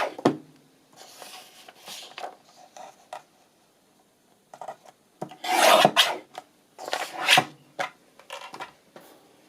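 Decorative paper for a journal pocket insert is trimmed in a quiet room, with scattered rasping cuts and rustles, a few louder scraping strokes near the end, close and without talk.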